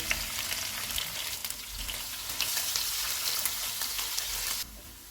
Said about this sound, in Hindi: प्याज डालेंगे, इनको गोल्डन ब्राउन होने तक फ्राई करेंगे